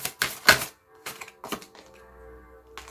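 An oracle card pulled from a deck, heard as a few sharp close clicks and taps in a loose rhythm, followed by a faint low hum, with no speech.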